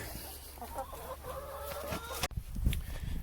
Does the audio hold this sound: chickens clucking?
yes